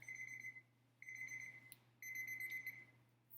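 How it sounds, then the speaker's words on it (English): A kitchen timer set for cooking rice beeps in three steady electronic bursts about a second apart, faint against a low constant hum, with no speech. "There's our timer"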